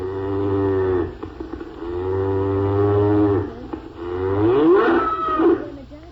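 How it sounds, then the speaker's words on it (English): A cow moos three times in long, drawn-out lows. The calls are loud and close, with a short gap between each, and the last one rises and wavers. "The gingerbread man knew at once that this must be a cow."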